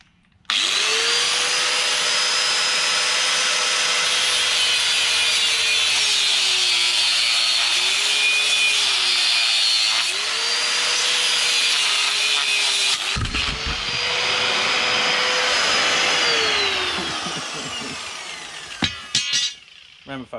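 A grinder cuts metal during a Commodore bucket seat install: a loud, sustained whine whose pitch dips as it bites, breaking off briefly near the middle, then running on before winding down with a few knocks.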